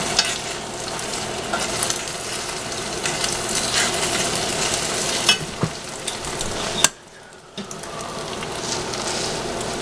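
Scrambled eggs sizzle and crackle steadily in a frying pan, a dense close frying hiss broken by a brief stir and a short near-silent gap before the sizzle returns.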